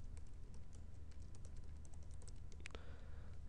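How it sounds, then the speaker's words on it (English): An email address typed on a computer keyboard, a quiet, quick run of soft key clicks with one louder tap near the end. "in here you can just type in someone's email address"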